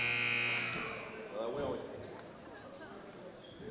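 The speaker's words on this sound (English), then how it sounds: "First buzzer sounds, getting them out of the timeout." A loud, sustained electronic buzzer at a high school boys' basketball game blares for under a second to end a timeout, then cuts off, leaving a noisy arena crowd and a talking voice.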